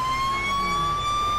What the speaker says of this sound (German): Müssen wir uns natürlich jetzt auch dadurch, dass wir das amerikanische Setting haben, etwas an die nervige Sirene gewöhnen.